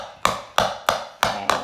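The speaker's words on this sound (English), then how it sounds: "Just knock it off into the bowl." A spoon knocks against a bowl five times in a steady rhythm to tip off guacamole. The taps are close, sharp and clear, with no talk over them.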